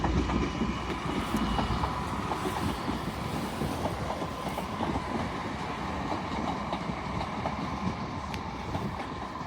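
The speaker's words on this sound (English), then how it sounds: "Arriving in now is another Northern Turbo Star, working a service from Sheffield to Scarborough." A Northern Turbostar diesel multiple unit, Class 170, pulls into Doncaster station on the East Coast Main Line, its steady engine rumble and wheel clatter holding loud and close throughout with no voices.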